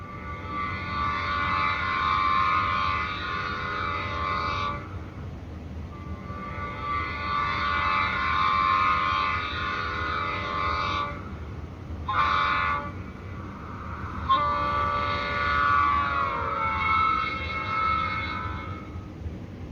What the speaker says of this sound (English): F5 is the Doppler horn.